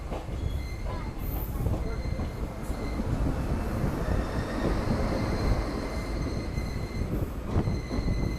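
A train arriving at Gokarna Road railway station in the Konkan region, with a steady loud rumble of rolling wheels and faint squeals from the rails throughout, with no talk.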